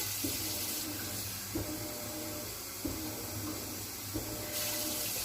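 Tap water runs steadily to fill the water pan at the bottom of a home oven, a constant rushing hiss with a few brief changes in flow, close by and alone.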